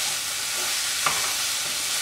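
Grated bottle gourd sizzles in a pan as it is sauteed for kheer, giving a steady hiss at even loudness with one brief scrape of stirring.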